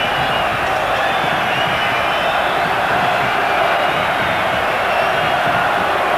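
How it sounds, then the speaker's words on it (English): Dense, steady roar of an enthusiastic football stadium crowd at the 1994 UEFA Cup Final between Casino Salzburg and Inter Milan in Vienna's Ernst Happel Stadium, loud and continuous throughout. "A very volatile and enthusiastic crowd in the stadium tonight"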